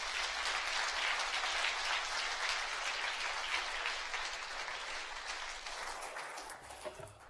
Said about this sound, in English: If we can get him another round of applause.